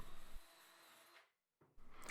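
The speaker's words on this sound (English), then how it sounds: "use a sanding drum in the drill to clean everything up" A power drill spinning a sanding drum against wood while a cart is built, a faint whirring grind that stops briefly, then starts up again.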